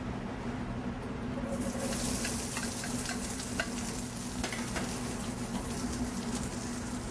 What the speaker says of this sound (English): you can hear there's a nice sizzle, a nice hot pan will make all the difference